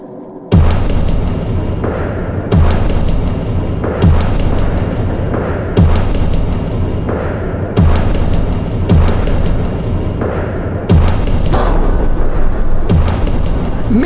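A spaceship fires missiles that strike enemy ships: a series of about nine sharp, loud blasts, each followed by a rumbling decay, arrive at roughly regular intervals, close and powerful, with no speech.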